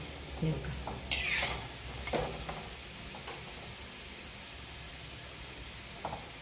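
Shankarpali dough pieces frying in hot oil over a low flame give a soft, steady sizzle, with a few close utensil clinks and scrapes near the start and one more near the end.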